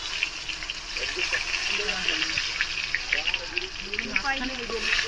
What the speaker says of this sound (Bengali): বেগুন ভাজা এক পিঠ হয়ে গিয়েছে,